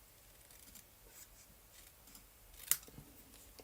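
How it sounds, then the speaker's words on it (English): Scissors cutting card paper, faint and close, with soft snipping and rustling leading to one sharp, crisp snip near the end. "So I'm just gonna cut this."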